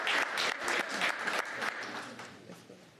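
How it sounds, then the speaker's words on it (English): Audience members at a city commission meeting honoring a championship high school boys basketball team and coach break into loud, dense applause that stays strong for a few seconds and then begins to taper. "Another round of applause."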